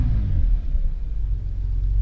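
Vauxhall Senator CD 3.0 24V engine running nearby, a deep steady rumble with a brief dip before settling back into a continuous low drone.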